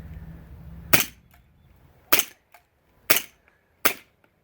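An Elite Force 1911 Tac airsoft pistol fires four sharp, close shots with pauses of about a second between them. Each crack is punchy and short, and nothing else is heard.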